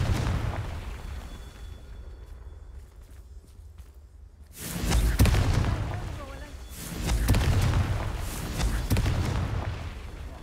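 A Confringo blasting curse in the Hogwarts Legacy video game sets off heavy booming explosions after a quieter lull, followed by a second rumbling blast as the debris settles.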